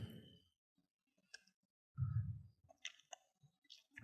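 A computer mouse clicks on a software button, short dry clicks heard in a quiet room alongside soft scattered handling noises and a low thump.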